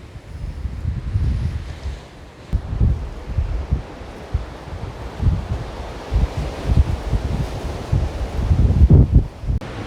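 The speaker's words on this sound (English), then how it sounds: "The wind is blowing stronger than expected" Strong wind gusts across a beach campsite, blustering against the microphone in uneven surges with low rumbling buffets, loud and close throughout with no speech.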